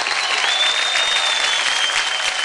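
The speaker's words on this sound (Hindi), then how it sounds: "जोरदार तालियां हो जाए इन 12 डांसिंग स्टार्स के लिए" A studio audience at a televised dance competition elimination gives a dense, steady wash of applause and crowd noise for twelve dancers, loud and continuous with a faint whistle-like tone above it and no speech.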